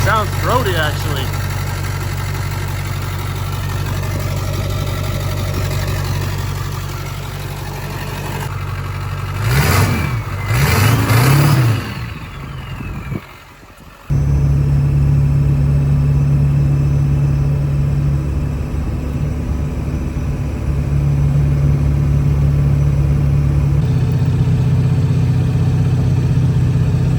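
A 7.3 Powerstroke diesel truck engine with a custom hood stack idles with a deep, steady, throaty rumble, revs up briefly with a rising roar, cuts out, then settles back into a loud idle.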